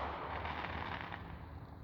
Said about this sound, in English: Well, that was their little finale for those fireworks.